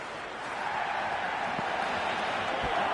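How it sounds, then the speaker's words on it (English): Steady broadband roar of a cricket crowd in a Cricket 26 video game match, swelling slightly after the first half second and holding an even, dense wash of noise with no distinct voices. "The crowd is electric right now."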